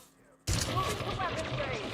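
Sustained video game gunfire in on-foot combat with a combat suit, a dense loud barrage bursting in after a quiet half second and continuing without letup, with a voice faintly under the shooting.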